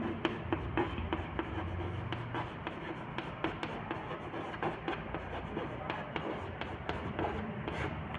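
Writing on a board during a Hindi-language chemistry lecture on chemical kinetics: a steady run of quick taps and scratchy strokes, close and fairly quiet, continuing without talk.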